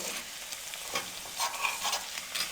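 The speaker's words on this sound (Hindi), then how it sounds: "अब इसी तरह हम तमाम फ्राई कर लेंगे।" Chicken and potato shami kebabs frying in hot oil, a steady soft sizzle with occasional crackles and faint utensil scrapes, close by with no talk.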